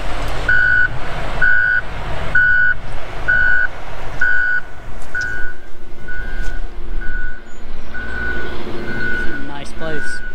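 A small truck drives with steady, loud reversing beeps repeating at an even rhythm over engine rumble, the beeping continuing throughout as people talk nearby.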